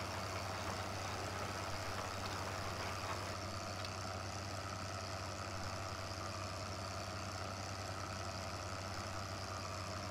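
Diesel engine of a 1982 John Deere 310A backhoe in the farming video game Farm Sim 2013, a steady low idling drone with constant mechanical hum, unchanging and moderately loud, without voices.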